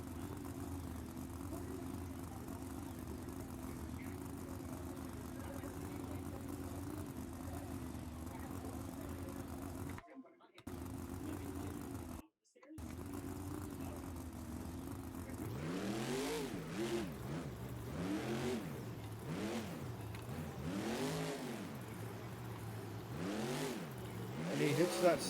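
A monster truck's engine revs in BeamNG Drive: a steady drone at first, then repeated rising and falling revs once the run begins, with a commentator talking over it.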